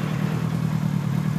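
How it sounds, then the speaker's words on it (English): A vehicle lift in a home garage vibrating while a Kawasaki KZ900 motorcycle runs nearby: a steady low droning hum with a faint rattling edge, constant and close, no voices. "That noise you hear is my lift vibrating."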